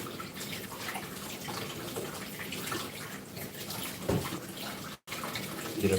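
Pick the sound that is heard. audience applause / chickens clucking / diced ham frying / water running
water running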